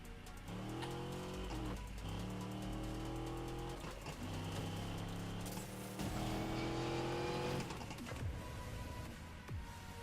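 A race car in Need for Speed Payback revs and accelerates through repeated gear shifts, engine tone climbing and dropping with occasional tire noise, loud and continuous with no talking.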